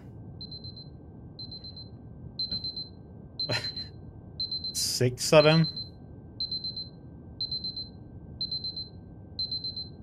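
Alarm clock beeping in the puzzle game Superliminal: a steady series of short, evenly spaced high electronic beep bursts repeating throughout, with a voice talking briefly in the middle.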